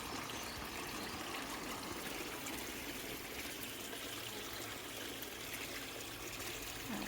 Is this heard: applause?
no